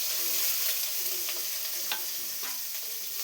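Mustard seeds, chopped onion and curry leaves sizzle in hot oil with a steady close hiss, sprinkled with small pops and the occasional clink of stirring.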